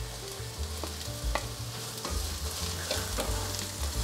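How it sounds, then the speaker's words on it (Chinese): Carrots stir-fry in hot oil with mushrooms in a wok, giving a loud crackling sizzle broken by rhythmic scraping and tossing strokes of the spatula. "红萝卜充分的给它炒至半熟，让它吸收到油脂。"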